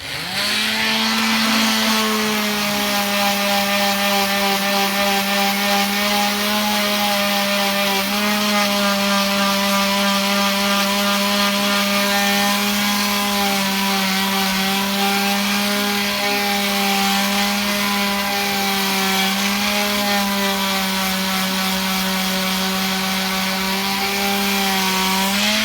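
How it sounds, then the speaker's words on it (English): Power sanding on a bathroom vanity built from scrap wood, a loud continuous motor whine with steady humming tone running unbroken throughout, no talk. "I've sanded it quite a bit. I'll just do a little bit there."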